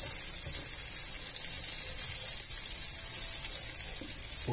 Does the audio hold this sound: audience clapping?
no